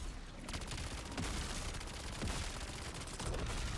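Rapid gunfire bursts from a weapon in Black Ops 7 Zombies, likely the UMP45 submachine gun, dense and continuous with loud cracks throughout, no talking over it.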